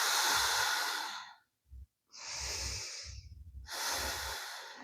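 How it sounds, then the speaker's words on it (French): Dynamic yoga breathing: three long, forceful, hissing breaths taken close up, separated by short quiet gaps and soft nasal intakes. "respiration dynamique."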